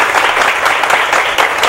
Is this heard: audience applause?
yes